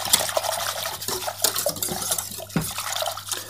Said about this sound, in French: Et voilà, on va mélanger à nouveau.